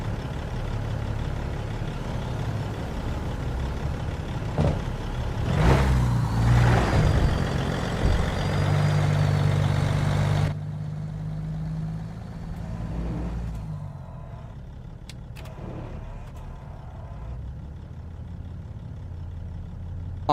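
Truck engines idle in American Truck Simulator, a steady low diesel rumble with a brief air-brake hiss and shifting engine tones, heard alone without speech.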